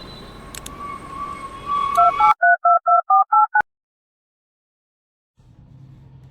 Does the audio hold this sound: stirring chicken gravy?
no